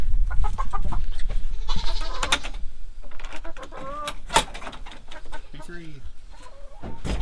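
Chickens in a coop cluck and squawk in short, irregular bursts, several birds close by and fairly loud, with occasional sharper calls rising over a busy background.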